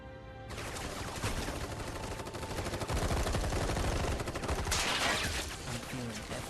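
Sustained automatic gunfire from an army of soldiers in Final Fantasy VII Rebirth, a dense, loud barrage of rapid shots running the whole time, with a brighter burst near the end and game music and effects mixed underneath.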